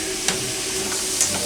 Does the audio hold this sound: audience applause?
no